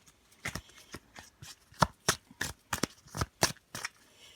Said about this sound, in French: je vais couper le jeu et retourner.